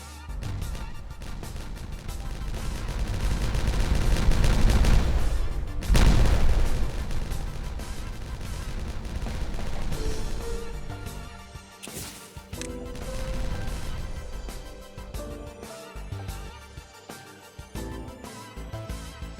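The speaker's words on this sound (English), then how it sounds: "Alright, we'll detonate these 6." Several dynamite charges detonate in the beaver colony-building game Timberborn, loud booming blasts with a big crash near five to six seconds, rumbling debris and scattered smaller crashes trailing off afterward.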